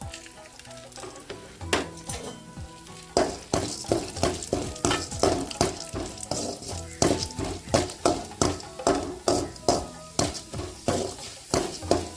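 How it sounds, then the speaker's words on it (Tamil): Chana dal and urad dal frying in a little oil in a kadai, with a continuous sizzle and regular, rhythmic scraping strokes of a spoon stirring the lentils, close and fairly loud. "கொஞ்சமாக எண்ணெய் ஊற்றி கடலைப்பருப்பு உளுந்தி வறுத்துக்கலாம்"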